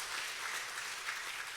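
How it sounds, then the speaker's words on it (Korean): A church congregation at a Sunday service applauds its pastor with steady, dense clapping that fills the whole short stretch without a break. "오늘 귀한 말씀을 전해주신 우리 장수영 목사님에게 우리 감사의 박수"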